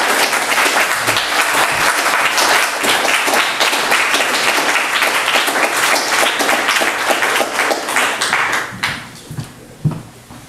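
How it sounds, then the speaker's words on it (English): Audience applause after a poetry reading at Trinity College, dense sustained clapping from a room full of people, loud and close, thinning out near the end into a few scattered claps. "I didn't mean to step on your applause"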